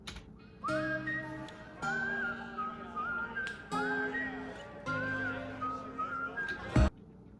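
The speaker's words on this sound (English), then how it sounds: "I really like the whistling into the song." Whistled melody opening the song, a clear tonal line in repeated phrases with a steady backing chord beneath it, ending in a short sharp hit.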